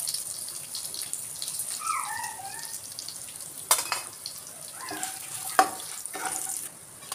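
Dried red chilies, coriander seeds and cumin seeds fry in a pan for a mutton curry, giving a soft hiss with light crackling and two sharp pops, along with brief whistly tones.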